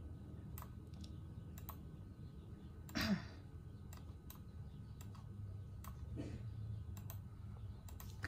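Quiet, sparse keystrokes on a computer keyboard while entering figures into an Excel spreadsheet, isolated clicks spaced irregularly over a faint room hum, with a soft breath or sigh partway through.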